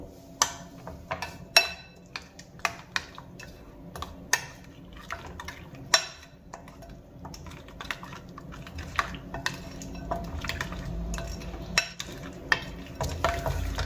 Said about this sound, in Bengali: এবার পালং শাকের পেস্টের সঙ্গে খুব ভালো করে আমি মিশিয়ে নেবো